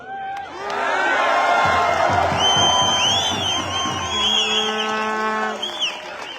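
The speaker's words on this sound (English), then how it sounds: "I appreciate that everyone's cheering for that now" A large outdoor crowd at an Alberta independence rally cheers, whoops and shouts loudly and steadily for several seconds, with whistles rising above the roar before it begins to taper off.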